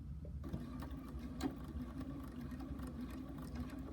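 Sewing machine stitching a quilt block, a steady low mechanical hum with a fast even stitching rhythm starting after a brief quiet moment, close and continuous.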